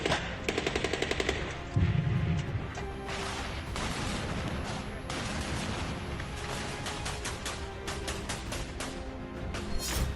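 Rapid bursts of machine-gun fire crackle through a battle in Donetsk between Russian and Ukrainian forces, with tanks and artillery present. Loud staccato volleys repeat over dense rumbling gunfire and booms, and no one speaks.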